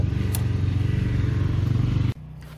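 A cheap go-kart's GX340 engine held at maximum throttle gives a loud, rapidly pulsing drone that cuts off abruptly near the end, leaving a quieter low hum.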